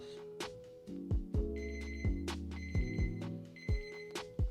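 Exercise timer alarm in a relaxing neck and shoulder yoga session, ringing in repeated electronic bursts of bright beeping tones over a steady low hum, with no talking.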